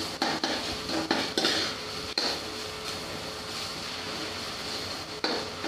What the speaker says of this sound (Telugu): మళ్ళీ స్పూన్తో కలపాలి.